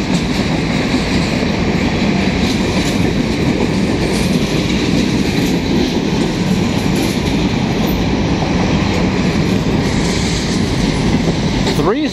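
A CN local transfer freight train hauled by three locomotives rolls past at close range on Montreal's St. Laurent Subdivision, a loud, steady rumble of wheels and clattering rail joints filling the whole stretch, with brief wheel squeal near the end.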